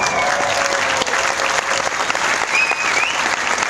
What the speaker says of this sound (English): Let's have a huge cheer first of all.